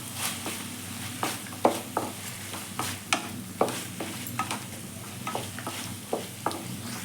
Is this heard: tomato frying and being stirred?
yes